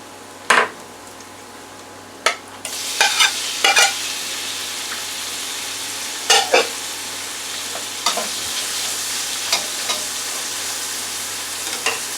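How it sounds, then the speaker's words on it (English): Sirloin steak sizzles loudly in hot oil in a pan, a steady broad hiss broken by sharp clanks and utensil knocks against the pan. "now I'm going to add some oil right here for the steak. And we're going to put our steak in."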